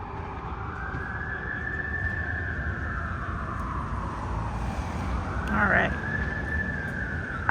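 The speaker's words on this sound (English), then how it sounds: "Sirens are too loud." An emergency vehicle siren rises and falls in a long wail over steady street noise, fairly loud and continuous, with a brief burst of louder noise partway through and people speaking nearby.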